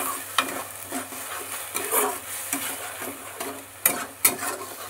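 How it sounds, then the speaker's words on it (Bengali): Spice paste sizzling in a pan with garam masala powder, a spoon stirring and scraping in repeated bursts over a steady frying hiss, close and moderately loud, no voices. "এবার দিচ্ছি গরম মশলা গুঁড়ো, এইবার ভালো করে কষাবো মশলাটাকে।"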